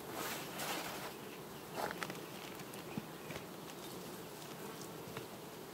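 Honeybees buzzing around an open hive during an August hive inspection, a continuous faint drone with occasional closer passes and light taps of frames, no voices.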